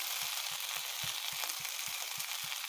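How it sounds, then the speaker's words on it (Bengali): Panch phoron spices and turmeric sizzle steadily in hot oil for a vegetable curry, a continuous close frying hiss with soft, regular low taps throughout. "প্রথমে তেলটাকে ভালো করে গরম করে নিতে হবে। তারপরে দিয়ে দেবো পাঁচফোড়ন।"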